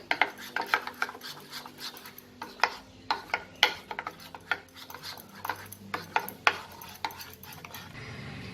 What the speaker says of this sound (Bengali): এটাকে খুব ভালো করে আমাকে ফেটিয়ে নিতে হবে যাতে দইয়ের লাম্পস একটুও না থাকে